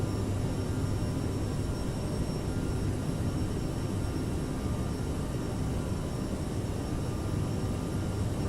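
CRJ-700 jet departing in Microsoft Flight Simulator, a steady loud engine roar with a broad, even hiss and constant low drone, no talk.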